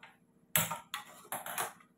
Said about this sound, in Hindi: गैस को जला लेंगे